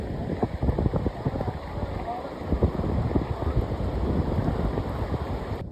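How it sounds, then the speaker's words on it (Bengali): Strong wind and rain buffet the seashore at Guliakhali during the monsoon, a steady gusty roar with rumbling microphone buffeting throughout and no clear voices. "প্রচণ্ড বাতাস আর বৃষ্টি তো আছেই"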